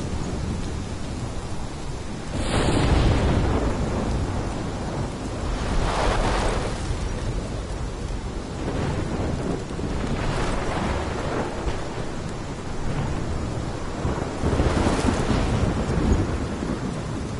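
A thunderstorm in the video game Life is Strange: steady heavy rain with repeated rolls and cracks of thunder every few seconds, loud and sustained, with no voices.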